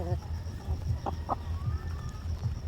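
Dual-purpose breed chickens cluck and call on a farm, a string of short close clucks over steady background noise, with a voice briefly audible.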